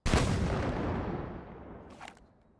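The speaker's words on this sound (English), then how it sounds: "Okay, I'm being shot at." Gunfire and a loud blast in a Roblox VR war game, a heavy booming burst that fades over two seconds, followed by a short, sharper crack near the end.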